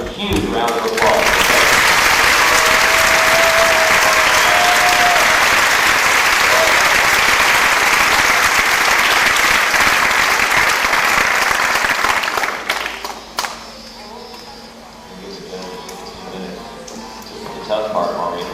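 Long, loud round of crowd applause for pageant contestants at a town festival, dense clapping holding steady before cutting off abruptly, followed by quieter room noise and a voice.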